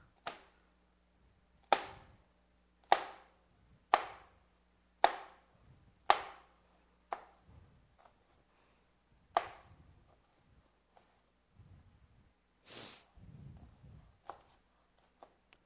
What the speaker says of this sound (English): we will need 1 cup green beans. Cut it at an angle up.